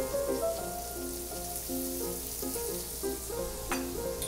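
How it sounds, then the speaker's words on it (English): Garlic sizzles in a hot pan while seafood is being cooked, a steady crackling fry with a faint tonal hum and an occasional clink, moderately loud and alone. "We want to be careful here just to get the garlic translucent."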